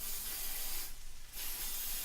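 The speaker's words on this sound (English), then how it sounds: "Just using a little bit of spray oil." A brief hiss of cooking oil spray bursts for about half a second over a constant steady background noise.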